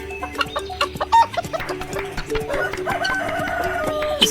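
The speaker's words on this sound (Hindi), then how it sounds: "जहाँ पिंकी अपनी अम्मी के साथ मुर्गियों का ख्याल रखा करती थी।" Several chickens cluck and squawk close by in a busy, overlapping chorus, with a rooster-like call mixed in.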